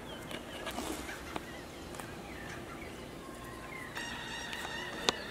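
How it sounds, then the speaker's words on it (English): A dawn chorus at sunrise in Cuba: many birds calling at a distance, with scattered chirps and a few sharper honking calls standing out near the end over a soft outdoor background. "There's literally so many birds,"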